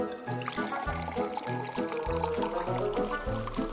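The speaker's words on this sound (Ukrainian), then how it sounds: "Так, обережно наливаємо." Hydrogen peroxide pours into a container in a foam experiment, a close continuous liquid trickle with gurgling under a rhythmic backing music track.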